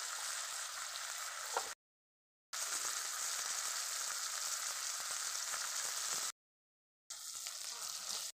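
Oil sizzles and crackles steadily in a kadai while fish curry cooks, a close, continuous hiss broken by a few brief silent gaps.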